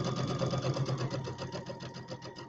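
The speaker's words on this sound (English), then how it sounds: "so we're going to sew this seam" A sewing machine stitches a quilt seam in a steady rapid whirring rhythm, the needle clattering evenly and close by without pause.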